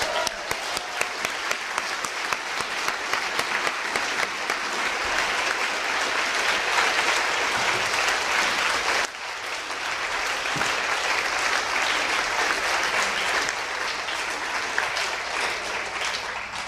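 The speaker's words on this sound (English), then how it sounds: "let's acknowledge with a huge applause the winner of the Haynes Prize in International Policy" A large commencement audience at SAIS Europe applauds the winner of the Haynes Prize in International Policy: a loud, dense, sustained ovation that dips briefly midway, then carries on at full strength.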